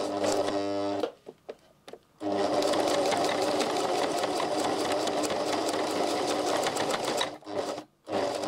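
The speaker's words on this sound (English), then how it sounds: "you want to sew across here so that this is tightly in place" A sewing machine stitches across a welt pocket with thick topstitching thread, whirring loudly and close in a long sustained run. It pauses briefly twice, with short bursts between the runs.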